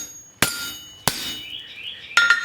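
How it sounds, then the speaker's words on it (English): The back edge of a hammer strikes tong jaws on an anvil in a smithy: three sharp, ringing metallic blows spaced unevenly, close and loud, each fading in a bright clang. "I'm going to hit with the back edge of my hammer right here"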